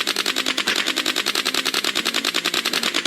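Rapid submachine gun fire from a zombie video game in practice mode, a steady unbroken stream of sharp, evenly spaced shots lasting about three seconds, loud and close with no talking.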